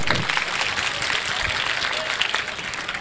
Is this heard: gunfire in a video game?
no